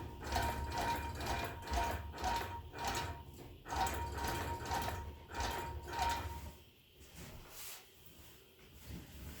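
A longarm quilting machine takes basting stitches across the top of a quilt, a rhythmic mechanical clatter of repeated stitching pulses that eases off near the end, with no talking.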